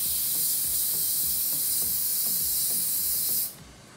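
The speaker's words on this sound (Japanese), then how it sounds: "軽くスプレーを振って毛羽立ちを抑えます。" Hairspray hisses from an aerosol can in one long, steady, close burst while it is misted lightly over a finished braided updo to tame flyaways, stopping abruptly near the end.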